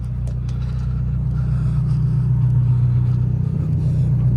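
A Lamborghini LP640 with a gated six-speed manual gearbox gives a steady low engine drone with road rumble, swelling slightly louder toward the end, with no voices.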